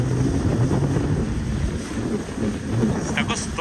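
Steady wind rush buffets the microphone aboard a fast-moving new jet boat, with water and engine roar underneath; loud and continuous, briefly swelling near the end.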